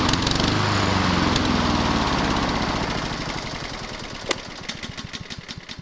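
A lawn mower engine runs until it is out of gas, starting at a steady drone, then sputtering and fading as it starves, ending in slowing, uneven chugs and pops before it dies.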